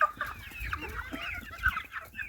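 Several chickens cluck and chirp together in a busy, continuous chorus, fairly close, with low thumps and rustling underneath.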